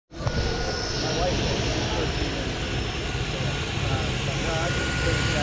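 A skydiving plane's propeller engine drones loud and steady right from a sudden start, with voices talking faintly under the roar.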